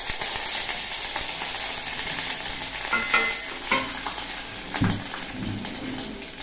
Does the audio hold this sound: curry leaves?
yes